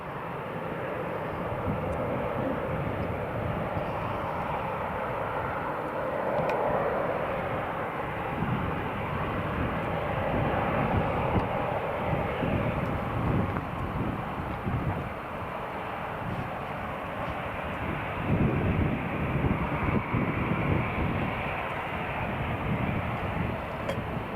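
Aircraft taxiing at Newcastle International Airport, a continuous broad jet engine roar held at a steady moderate level from a distance, with low rumble throughout and no talk.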